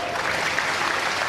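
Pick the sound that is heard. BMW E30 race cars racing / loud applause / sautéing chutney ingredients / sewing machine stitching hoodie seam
loud applause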